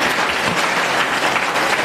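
Loud, dense crowd applause at a government school opening event in Delhi, many hands clapping in a continuous steady roar with no pauses.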